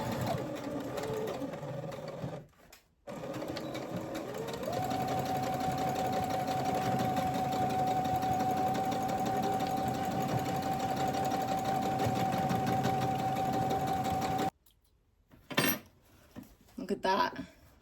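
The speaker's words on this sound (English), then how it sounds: "run that stitch over the edges of the elastic" A sewing machine runs a continuous stitch over the edges of an elastic waistband on workwear shorts, a steady close whir lasting about ten seconds after a brief start, then stopping abruptly with a few small handling clicks.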